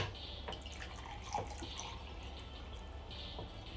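Tap water flowing through a couple of filters, a steady quiet rush and trickle of running liquid with a few faint drip-like accents, no voices.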